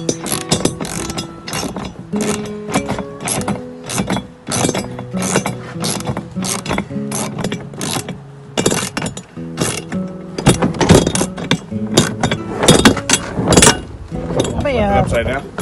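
A ratchet wrench tightens wheel lug nuts on a truck, giving rapid repeated clicking bursts with metallic clinks throughout, loud and close, while people talk over it.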